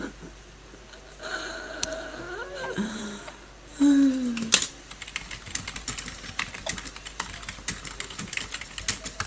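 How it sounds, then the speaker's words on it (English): Rapid clicking of keys on a computer keyboard, irregular bursts of typing close to the microphone, interrupted briefly by a few breathy vocal sounds. "She's typing, I can hear it."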